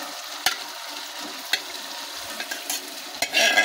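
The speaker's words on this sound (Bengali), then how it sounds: "এবার আমরা মাংসটাকে দিয়ে দেব।" Chicken meat sizzles and fries in hot, oily masala, with sharp stirring clatters at intervals over a constant hiss that swells louder at the end.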